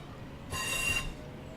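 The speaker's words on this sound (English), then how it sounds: "Emergency brake." An emergency brake on a train in Train Sim World 5 lets out a brief, bright metallic squeal of about half a second, heard alone against low rumbling.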